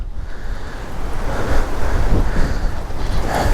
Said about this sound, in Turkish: Burası aşırı rüzgarlı.